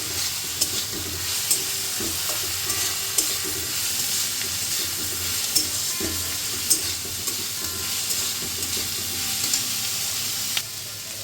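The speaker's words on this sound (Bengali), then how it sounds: "কাজুগুলো দিয়ে এবার একটু নাড়াচাড়া করে নেবো" Soaked cashews are stirred into black pepper chicken in a pan, with a continuous loud sizzle and frying hiss and frequent small scraping stirs, close up with no talking.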